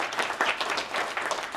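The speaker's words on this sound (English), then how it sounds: "So please give these professionals a round of applause" An audience at a township State of the Township event claps in a brief, dense burst of applause, steady and close with no voices over it.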